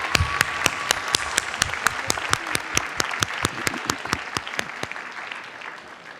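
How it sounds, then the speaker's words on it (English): Applause for graduates at a 2019 graduation recognition ceremony: a broad crowd clapping with a loud, regular clap close by standing out in a steady rhythm before it fades. "let us now give the CO graduates another applause."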